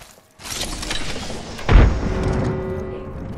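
A grenade bursts in Company of Heroes, a single heavy boom landing mid-clip over a constant rumble of battle noise and scattered gunfire, loud and fairly close.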